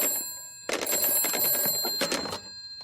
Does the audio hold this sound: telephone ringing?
yes